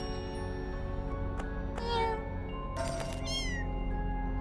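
Cats in the Cat Museum video game give several meows, including a drawn-out rising call and a quick wavering cry. They are clear and close above a steady humming game soundtrack.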